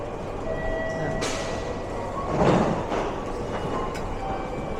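A Keikyu line train in Japan, rumbling and rattling steadily with a louder swell of rolling noise near the middle and occasional sharp clanks, heard from close by.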